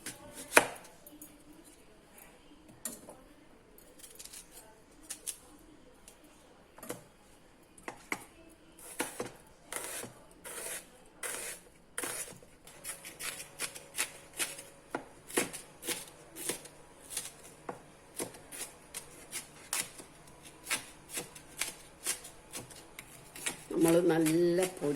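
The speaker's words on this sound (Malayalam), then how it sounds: "നമുക്ക് ആദ്യം സവാള അരിയാം" A knife chops onion on a board in a home kitchen, with sharp irregular taps, sparse at first and then turning into quick bursts of rhythmic close-up strokes, with a few softer handling noises at the very end.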